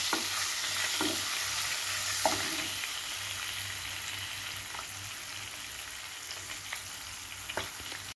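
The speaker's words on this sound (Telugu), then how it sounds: "ఇది ఇలాగా వేయించుకుందాం మనం." Eggs fry in a pan with a sprinkle of turmeric, a steady broadband sizzle running throughout, broken by a few sharp clicks of a utensil stirring and scraping.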